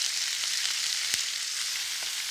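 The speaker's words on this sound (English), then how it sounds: "You want it to sizzle, you don't want it to stew at this stage." Beef for a pie sizzles steadily in a hot pan, a bright, continuous hissing crackle heard up close, with a few small pops and taps breaking through.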